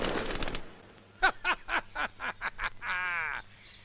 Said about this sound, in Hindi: ये पंछी ससुरा अमरपुर से उड़कर आया लगता है, जो खिलावे उसी के सर पे हकता है।